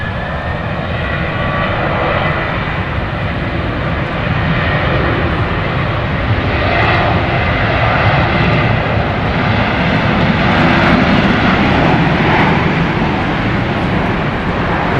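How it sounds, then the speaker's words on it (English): A jet airliner takes off from runway 31 right at Dallas Love Field, a loud continuous roar of engines that holds steady throughout, with no break and no voices heard. "RNAV Mears, clear for takeoff, runway 31 right"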